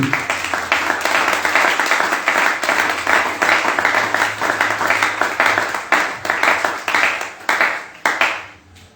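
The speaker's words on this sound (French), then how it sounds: "Donnons gloire encore à l'acclamation pour Jésus" Sustained crowd applause at a church service, dense clapping throughout, loud and steady, thinning and fading out near the end.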